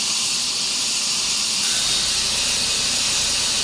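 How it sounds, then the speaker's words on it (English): An airbrush air compressor runs with a slightly odd sound, giving a continuous, even hiss of air at close range with no pauses. "Compressor sounds a little funny."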